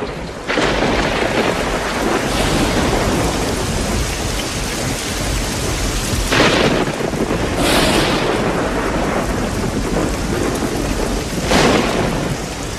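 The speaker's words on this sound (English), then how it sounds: "But now a tremendous storm is brewing." A thunderstorm with heavy rain in the Kalahari: dense, loud, steady downpour with several rumbling thunder crashes rising out of it, no voices.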